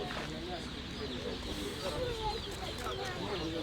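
Chickens cluck amid the crowd noise of an outdoor pigeon and poultry fair in Severodonetsk, the birds fairly faint beneath continuous background chatter of people talking.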